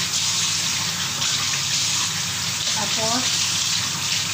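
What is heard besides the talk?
washing black chicken under running tap water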